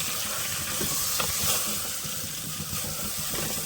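Mint stems frying in a pan for mutton paya soup, giving a continuous close hissing sizzle with little variation, no voices.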